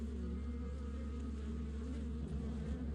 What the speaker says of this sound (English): That's when I heard the buzzing return.